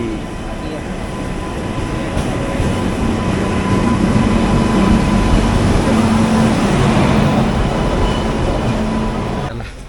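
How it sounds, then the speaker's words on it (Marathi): A train rumbles in at a station in the Konkan region, loud and close, its heavy rolling noise swelling and holding steady with a faint tonal whine above it. "फायनली आमची ट्रेन आलेली आहे"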